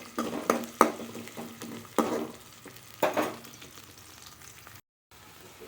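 Sliced onions and a torn dried chilli sauté in a pan with a soft frying hiss, broken by several distinct spoon stirs scraping against the metal at roughly one-second intervals, then a short silence.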